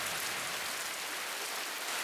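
Steady, even rain falls at night in Bali around a veranda, a dense continuous hiss of drops with no talking and no breaks.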